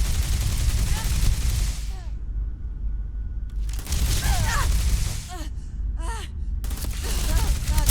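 Rapid bursts of gunfire in the game Starfield rattle loudly in several volleys separated by brief gaps, with a voice speaking between the shots.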